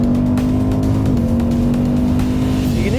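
Ford Mustang V8 on track, a loud, close engine drone holding a steady revving pitch that dips briefly as a gear changes, then rises sharply as the car accelerates again near the end.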